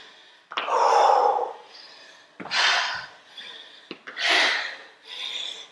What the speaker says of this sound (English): as you can hear from my panting